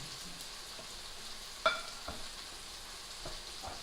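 Soft, continuous sizzle of bolognese sauce frying in a pan, with a spoon stirring through it and one sharp metallic clink partway.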